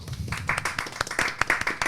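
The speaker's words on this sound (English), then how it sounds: "let's give them a quick round of applause, boys" A small group in a football podcast studio claps briefly for a supporters' group, giving a short burst of close, uneven hand claps that lasts under two seconds.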